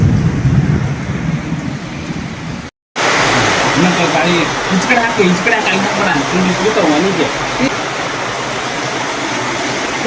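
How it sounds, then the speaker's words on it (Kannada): Heavy rain and gusting wind roar outdoors in a storm, a loud continuous wash with a brief dropout early on before the downpour resumes just as strongly. "ಗಾಳಿ ಮಳಿ ಕೂಡ ಐತಿ"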